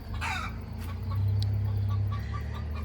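Hens sing an egg song, clucking and calling in a farmyard in the late afternoon, with a sharp squawk early on and a steady low hum underneath, fairly close and moderately loud.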